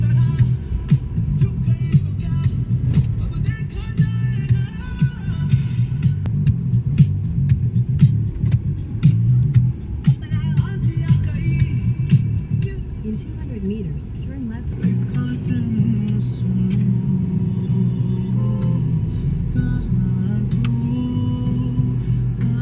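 A car drives off along a road, its engine a steady low hum and rumble that shifts partway through as it gets under way, heard from inside with a person talking over it.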